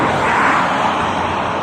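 Road traffic beside a long-closed railway station in Bolton: a steady, loud broadband rush of cars passing close by, filling the clip without pause and with no speech over it.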